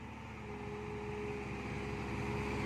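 A heavy diesel excavator engine idles at a steady, continuous rumble, close by and unchanging, with no voices.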